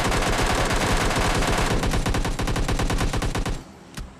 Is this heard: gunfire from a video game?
yes